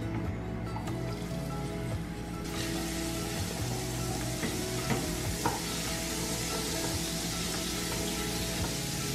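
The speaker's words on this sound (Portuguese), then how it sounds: "Vou refogar ela aqui na banha e no alho também" Chopped collard greens sautéing in lard and garlic, a loud close sizzle that flares up after a couple of seconds, with stirring clatter and crackles throughout.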